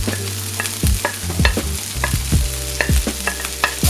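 Bacon is stirred back into a pan of caramelized onions, with repeated sharp scrapes and clacks of the utensil over a steady frying sizzle, close up and without speech.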